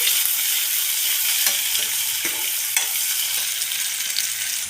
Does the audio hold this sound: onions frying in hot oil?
yes